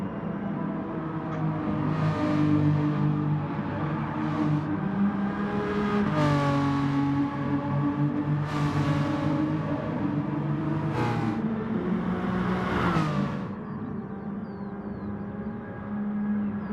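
A race car laps a track at speed, its engine note loud and sustained, rising and falling through repeated revs and gear changes as it corners, with no talk over it.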